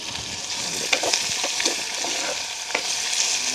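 Onions, green chillies and curry leaves sizzle steadily in hot oil in a village kitchen, a continuous crackling fry with occasional louder pops and spatters, close and alone.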